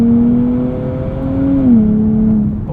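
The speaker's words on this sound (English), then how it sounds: "because this is a twin turbo V6, it's pretty responsive" A 2023 Nissan Z with a twin-turbo V6 and nine-speed automatic pulls under throttle, its engine drone rising then dipping across a shift, heard steadily from inside the cabin.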